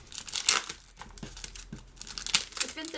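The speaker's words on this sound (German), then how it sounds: "Und dann das Papier ist noch dabei. Das packe ich für euch natürlich aus." Wrapping paper being unpacked from an autumn-winter catalogue package, crinkling and tearing in bursts close to the mic, with quieter rustles between.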